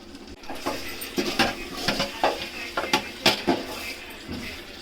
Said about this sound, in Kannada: ಚಿಕನ್ ಫ್ರೈ ಮಾಡ್ತಾ ಇದ್ದೀವಿ.